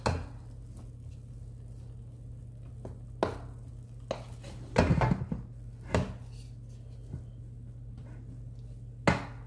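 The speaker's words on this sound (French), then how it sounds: "je tourne mon riz." A spoon stirs red rice in a pot over low heat, giving scattered knocks and scrapes against the pot, with quiet pauses between over a steady low hum.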